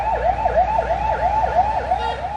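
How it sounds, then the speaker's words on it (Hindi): An ambulance siren wails loudly and close by in a repeating rising-falling cycle of about three sweeps per second, with a faint road rumble beneath and no voices. "एक एम्बुलेंस करीब आकर दूर जाती नहीं कि दूर से एक और एम्बुलेंस के करीब आने की आवाज सुनाई देने लग जाती"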